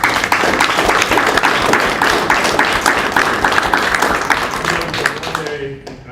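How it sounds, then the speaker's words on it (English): An audience applauds at a live-streamed talk, with dense sustained clapping that fades out near the end and a voice faintly heard over it. "and round of applause to Huss"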